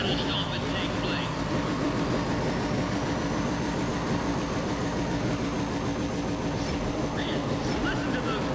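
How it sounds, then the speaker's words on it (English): Car engines roar and rev continuously in the street-racing game Need for Speed ProStreet, a dense, steady mechanical drone with a loud low rumble filling the whole stretch. "Man, listen to those engines."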